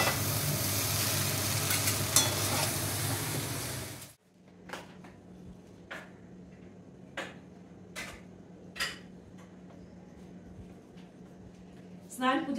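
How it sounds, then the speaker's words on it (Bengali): Maggi noodles frying in a pan, a dense loud sizzle for about four seconds that cuts off abruptly, followed by a low steady hum with scattered clicks and taps. "ওদিকে আমি ম্যাগি ফ্রাই করছি"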